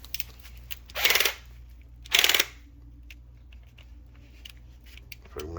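Two sharp, loud snipping bursts from a hand cutting tool biting through the end of a shower faucet pipe, each about half a second long and a second apart, close up with a quiet room behind them.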